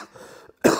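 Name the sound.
cough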